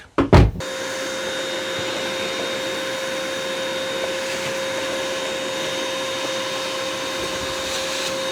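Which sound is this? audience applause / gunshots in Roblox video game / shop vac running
shop vac running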